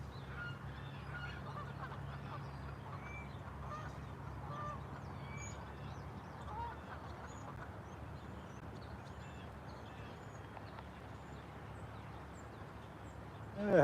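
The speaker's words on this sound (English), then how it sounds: "he's easy to miss because you don't make any noise like these geese" Geese honk in the distance during a morning of flathead fishing, with faint repeated calls over steady low outdoor noise.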